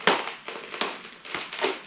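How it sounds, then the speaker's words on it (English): Glass being smashed out of the window of an abandoned, rusty Volvo 245 DL, four sharp crunching impacts spaced about half a second apart, each trailing off in crackling shards, close and fairly loud. "Who needs auto glass? And you can just smash it out."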